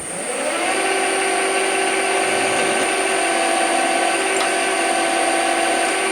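A lathe spins while drilling a small hole in a metal workpiece, giving a steady, close motor whir with clear whining tones that hold evenly for several seconds.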